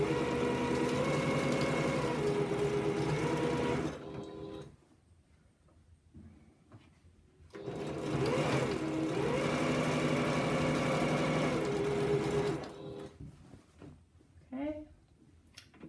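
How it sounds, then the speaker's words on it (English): A sewing machine runs in two long steady bursts while stitching heavy quilt seams, a loud even mechanical whir with quiet pauses between, and someone talks faintly near the end. "I stitch with a hand behind the presser foot and one in front of it, that I can pull it evenly"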